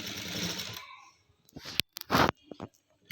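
A sewing machine stitches cloth in a steady, close whir that lasts about a second, followed by a few short clicks and knocks from handling the fabric.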